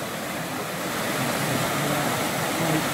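Water pours steadily down a waterfall into a clear lake, a continuous, fairly loud broadband rush with no pauses and no voices.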